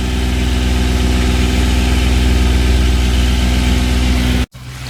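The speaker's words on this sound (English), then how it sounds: "We've been motoring all the way from Hexam like this" A sailboat's inboard engine drones steadily and loudly while the boat motors along at about 4 knots, a constant low throbbing hum that drops out briefly near the end.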